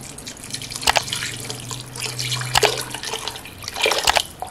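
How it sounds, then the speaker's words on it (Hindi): Water poured into a pressure cooker holding beef for an Eid beef recipe, heard as close, steady splashing and dripping with a few sharper splashes, no talk. "और अब इसके अंदर जाएगा पानी, और पानी आपने अपने कुकर के हिसाब से डालना है"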